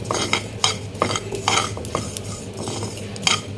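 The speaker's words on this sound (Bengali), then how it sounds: "একটা ফ্রাই প্যান গরম করে নিলাম, তো আমি এর মধ্যে কালিজিরাগুলো দিয়ে দিলাম। আমি কোনো তেল ইউজ করব না" Nigella seeds dry-roast in a hot frying pan without oil, with repeated close scrapes and clinks of stirring against the pan at an uneven rhythm.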